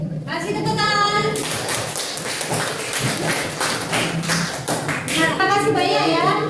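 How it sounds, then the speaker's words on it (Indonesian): Classroom students clap together in a busy burst of overlapping claps and taps, with voices talking over them at the start and end. "Oke, kasih tepuk tangan"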